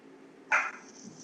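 A single short dog bark, fairly faint and brief, heard over low steady background noise during a truck racing broadcast.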